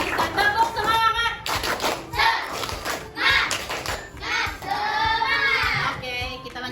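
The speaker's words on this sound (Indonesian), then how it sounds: "Kita tepuk tangan dulu untuk kita semua." A classroom of children clap together at a teacher's cue, bursts of rhythmic hand claps broken by short pauses, with kids' voices and chatter mixed in close by.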